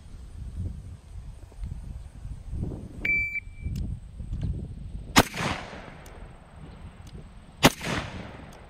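Two sharp rifle shots crack out at a shooting range, spaced a couple of seconds apart, each a loud broadband burst with a brief decaying tail over low outdoor rumble, after a short electronic beep.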